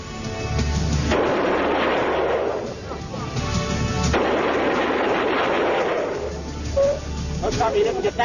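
A Browning machine gun fires in long, loud, close bursts of rapid shots separated by short pauses, each burst rattling hard and echoing.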